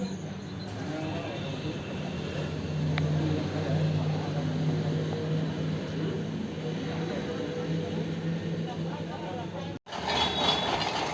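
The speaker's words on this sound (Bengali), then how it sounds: "দেখো মেশিনটা চালু হয়ে গেছে গা" Soil boring machine running beside a roadside shop to extract soil for testing, a steady low mechanical drone with engine hum held throughout, briefly cutting out near the end before resuming.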